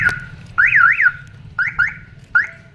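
A Nissan NV350 van's alarm goes off when a door is opened, sounding a loud, close warbling electronic wail in three bursts, a long one followed by two shorter ones.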